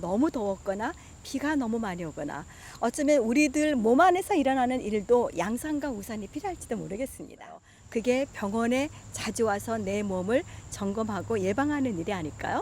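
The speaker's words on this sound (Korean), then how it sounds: "매미 소리가 들리지만 밤에는 역시 귀뚜라미 소리가 크게 들리거든요." Summer cicadas keep up a thin, steady, high-pitched drone far in the background, running unbroken beneath someone talking throughout.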